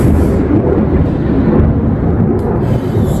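Thunder from a thunderstorm rolls as a loud, continuous low rumble that fills the whole stretch without a break, with no voices over it.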